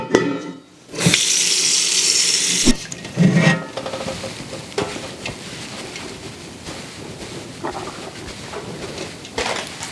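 Water runs from a tap into a large canning pot, first a bright hissing rush, then a lower, rougher gurgle as the pot fills, with a few clanks and handling noises between.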